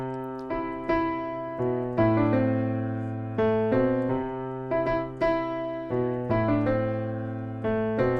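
Piano plays the trumpet-line melody that opens a song, clear sustained notes with a bass note held under each phrase, steady and moderately loud, with no voices.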